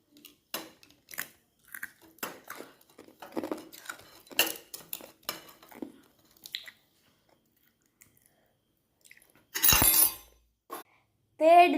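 Someone bites and crunches an ice cube, producing a series of sharp, close cracking and crunching bursts, followed by a few louder clattering sounds.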